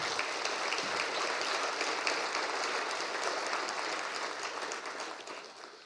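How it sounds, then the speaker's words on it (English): Audience at a federal all-candidates forum applauding five election candidates, a dense steady roar of clapping hands from a room of people that slowly fades toward the end, with no speech over it. "how about a big applause for all 5 of our candidates."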